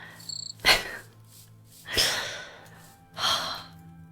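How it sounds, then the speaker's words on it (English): Minecraft crickets by a small lake, heard as a few short chirps near the start followed by three louder breathy, swelling bursts spaced about a second apart in an otherwise quiet game scene. "I think, just really a nice little lake with more crickets"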